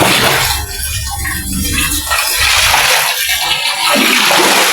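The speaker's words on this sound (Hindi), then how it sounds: "पानी बार बार निकाल रहा हूँ, बार बार निकाल रहा हूँ, ठीक है, कमरे के अंदर पर लेके घुस रहा है पानी" Water sloshes and splashes loudly as it is bailed out of a room flooded by heavy rain, with continuous pouring and churning that swells and dips, close by and without speech.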